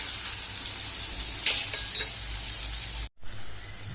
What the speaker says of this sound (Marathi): आतां हे टोमॅटो मातशे बरें फ्राय जावन ही भितर मात